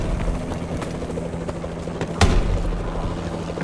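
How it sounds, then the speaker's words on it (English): Enemy warbird aircraft passing overhead in a Call of Duty multiplayer match, a steady rotor-like aircraft drone under game noise with one sharp burst partway through. "Enemy warbird above."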